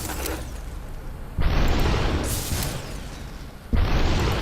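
Gunfire in the video game Superhot: two heavy booming shots about two seconds apart rise sharply over a loud, continuous background rumble, close and forceful, with no speech.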